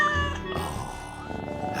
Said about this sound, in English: Ah, nice cat.